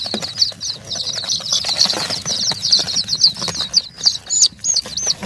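Week-old chicken chicks cheep in a dense, continuous chorus of high, repeated peeps, close and lively, with soft rustling and shuffling underneath throughout.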